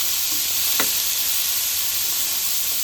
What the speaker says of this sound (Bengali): এই উপকরণগুলো সবই একসঙ্গে এর মধ্যে দিয়ে দেবো। ভালো করে একটু মিশিয়ে নেব।